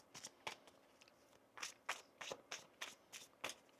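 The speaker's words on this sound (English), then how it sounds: "One more shuffle here." Tarot cards being shuffled by hand, a series of quiet crisp riffling bursts in an irregular rhythm, close and soft with short pauses between.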